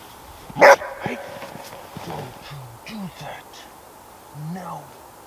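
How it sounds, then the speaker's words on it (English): Dog barking outdoors in snow at a winter hot-tent camp, one loud sharp bark followed by quieter yips and murmurs, with a person talking softly in between. "This barking is not going to help."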